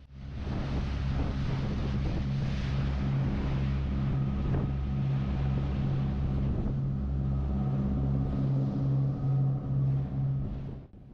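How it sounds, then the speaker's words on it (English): Steady low rumble of a steel trawler yacht's engine with rushing water and wind noise as it moves through the sea, continuous and fairly loud throughout. "I genuinely do not think there is a more calming and relaxing noise than a boat moving through the sea."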